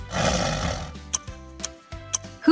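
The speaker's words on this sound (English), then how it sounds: "It's a tiger." A tiger gives one rough, forceful roar that fades away, followed by a few sparse clicks and quiet gaps.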